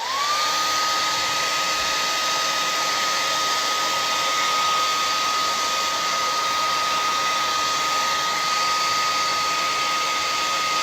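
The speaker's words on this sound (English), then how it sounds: "I'm gonna blow dry the feet a little bit." A hair dryer blows continuously at close range, drying paint on a canvas, a loud steady whooshing drone with a constant whine and no talk over it.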